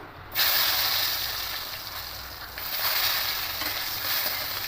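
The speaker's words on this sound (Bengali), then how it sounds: "এবার এই তেলের মধ্যে বেগুনগুলো দিয়ে দেবো" Eggplant pieces drop into hot oil and a loud hiss bursts out at once, then settles into a continuous sizzle that swells again partway through.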